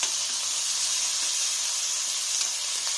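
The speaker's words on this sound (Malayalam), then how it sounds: "ഇനി അതിലേക്ക് ഇതാ 1 ഇഞ്ച് ഇഞ്ചിയും പിന്നെ വെളുത്തുള്ളി, 4-5 അല്ലി വെളുത്തുള്ളിയും കൂടി ഇട്ടിട്ട് ഒന്ന് സോട്ട് ചെയ്ത് കൊടുക്കാം" Ginger and garlic sauté in hot oil in a pan for a Vadakara-style meat rice dish, giving a steady, close, bright sizzle with no voices.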